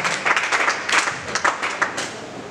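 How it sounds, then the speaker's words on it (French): Church congregation clapping and cheering to welcome an arriving pastor, a dense patter of hands rising in several louder surges, close and steady, with no talk over it. "Nous acclamons, s'il vous plaît, nous acclamons."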